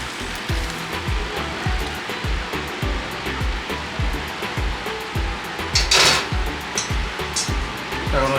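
Boiled vegetables pour out of a pot in a steady watery rush with repeated dull knocks and clatter, close and fairly loud, swelling briefly near the end.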